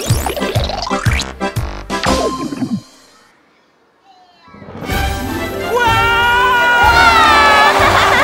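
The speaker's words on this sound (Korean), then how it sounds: "박수와 함성!" Children's studio audience at a Korean kids' TV show bursting into loud cheering and shouting after a brief pause, sustained and bright, preceded by energetic music and voices.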